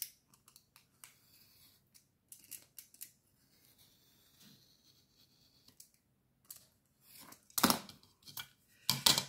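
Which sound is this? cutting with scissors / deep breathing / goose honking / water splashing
cutting with scissors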